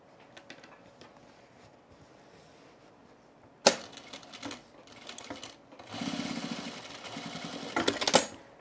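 A sewing machine runs a basting stitch on men's cargo shorts: quiet handling at first, then a sharp knock and bursts of rapid mechanical stitching, the longest stretch close and loud near the end.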